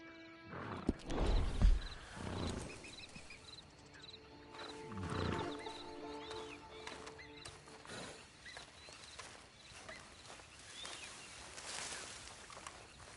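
A horse in a video game clip-clops and whinnies in short bursts, the hoofbeats and snorts fairly close over a quiet ambient bed, with no talking.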